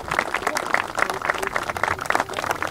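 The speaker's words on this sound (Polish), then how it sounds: "duże brawa się należą" Applause at a ceremony for the fourth edition of an Avenue of Stars event in Szelment, a brisk, moderate patter of clapping with crowd voices underneath throughout.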